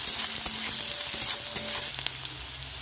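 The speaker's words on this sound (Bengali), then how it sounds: "পেঁয়াজ কুচি, রসুন কুচি দিয়ে দেবো, একটু ভালো করে ভেজে নেবো" Green and dry chillies with chopped onion and garlic fry in hot oil, giving a bright continuous sizzle with small crackles and a brief stirring scrape, close and moderately loud, easing slightly toward the end.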